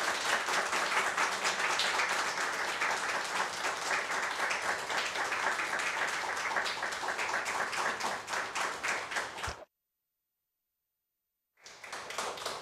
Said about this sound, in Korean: 우리 함께 박수로 모시겠습니다.